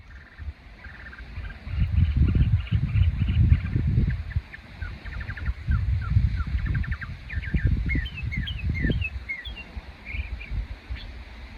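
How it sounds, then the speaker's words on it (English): A mockingbird sings a string of varied chirps and trills at moderate distance, phrases changing every second or so over low rumbling water or wind noise. "mockingbird chirping"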